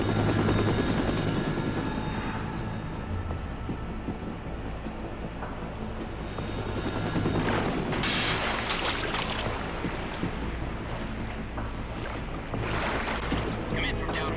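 A helicopter in a Metal Gear video game whirs with a steady rotor drone, interrupted by bursts of rushing noise, while a voice talks over it.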